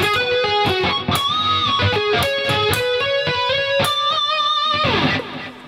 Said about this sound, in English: those pinched harmonics just add some extra overtones